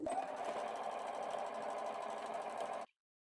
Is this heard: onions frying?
no